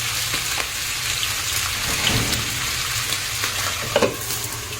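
A rat fries in a pan with fish sauce, giving a steady, close sizzle throughout, with stirring scrapes and a brief clatter near the end.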